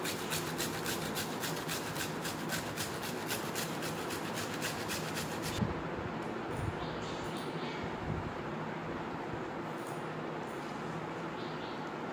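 Cut onion skin scrubbed by hand, giving a steady, close, continuous rasping rub throughout.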